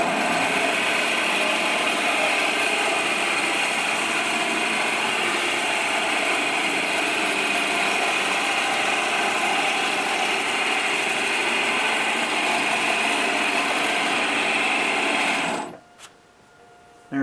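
An electric power sander runs steadily for about fifteen seconds while sanding, a close, loud whirring hiss that cuts off abruptly near the end.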